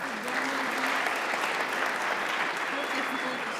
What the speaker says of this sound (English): So another round of applause to our designers of those technologies